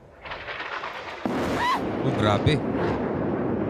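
An explosion hits a building during the Israel-Gaza war: a sudden heavy blast with a rumbling roar that continues after it, while a voice exclaims in alarm over the noise.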